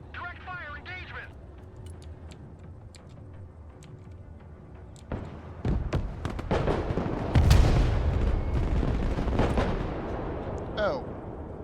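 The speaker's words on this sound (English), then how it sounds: "Artillery available, sir. Direct fire engagement." Artillery and gunfire in the video game Broken Arrow, set in a Baltiysk invasion scenario: a string of sharp blasts and booms grows louder midway, with a dense burst of explosions near the middle and speech over the battle noise.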